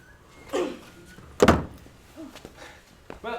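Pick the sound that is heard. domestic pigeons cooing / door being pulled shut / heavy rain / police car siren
door being pulled shut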